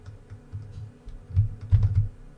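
Keys tapped on a computer keyboard while writing screenplay action, an uneven run of close, fairly loud, low thumping keystrokes with no talking.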